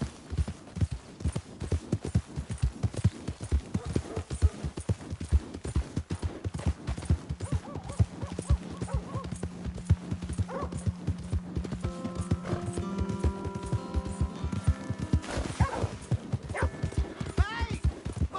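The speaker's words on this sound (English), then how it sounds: "Hey! My horse!" Hooves of a horse in Red Dead Redemption II clip-clop in a brisk, steady rhythm, close and continuous, with a brief whinny, a low hum and game music under them, and a man calling out near the end.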